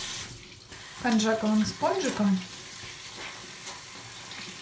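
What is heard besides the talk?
tap water running while rinsing face with sponge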